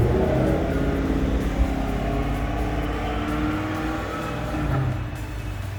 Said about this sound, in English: I think he's got a C8 Corvette.